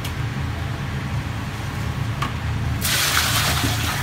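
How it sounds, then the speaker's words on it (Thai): Cold water pours steadily from a tap into a cooking pot of roasted pork bones, a continuous rushing gush that grows louder and brighter partway through, with no talking. "หลังจากนั้นเราเทน้ำเย็นลงไปสักหน่อยนะครับ"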